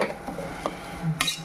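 A metal spoon stirs egg fried rice with cashews in a pan, making a few close clinks and scrapes against the pan. No voices are heard.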